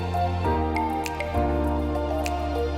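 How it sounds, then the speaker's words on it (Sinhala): Water is poured into the tank of a colorful humidifier, giving close drips and soft squishy splashes against a steady tonal background. "මම මෙන්න මේ විදියට මේකට වතුර ටිකක් දාගන්නවා."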